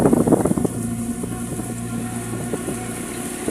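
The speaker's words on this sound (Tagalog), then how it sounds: "grabe malakas yung hangin" Strong wind at an elevated spot in Aklan, Philippines: steady broadband rush buffets the microphone, with a louder gusty burst at the start and a low hum underneath.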